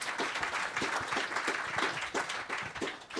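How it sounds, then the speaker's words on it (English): An audience at a cancer prevention day event claps in a modest round of applause, individual hand claps audible as a steady rhythmic patter at moderate distance. "I think that deserves a round of applause for you."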